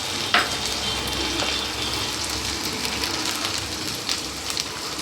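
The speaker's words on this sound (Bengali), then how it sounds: "এই মশলাটাকে ভালো করে কষিয়ে নেব।" Turmeric and chili powder cook in a pan with boiled lentils, making a dense, even hiss of frying close up, with a few soft stirring knocks and no talking.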